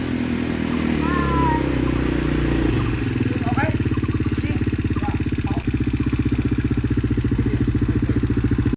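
A motorcycle engine running nearby on a jungle hiking trail, a steady rhythmic idle putter that holds throughout, with birdsong and a voice faintly above it.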